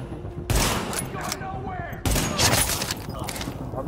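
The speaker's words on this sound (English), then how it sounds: "Reporting gunfire in the station above us." Gunfire in the shooter video game Tom Clancy's The Division, two loud sudden bursts of rapid shots with crackling impacts and debris, close and dense, alongside game radio voices.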